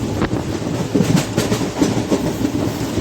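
A long-distance express from Secunderabad to Trivandrum runs on rails near Ernakulam Town, its wheels beating a steady clickety-clack over a loud continuous rumble, heard from inside the coach.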